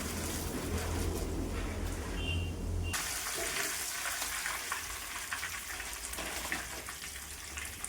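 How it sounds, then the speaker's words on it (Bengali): Flattened rice (chira) frying in hot oil gives a soft, steady crackling sizzle, fairly faint and continuous, with a brief shift in texture partway through. "এইভাবে সব কটা চিড়া আমি ভেজে নিব, পুরো প্যাকেটটা"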